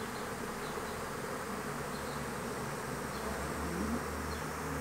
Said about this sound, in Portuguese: Enxame bem populoso, vocês podem ver ali, ó.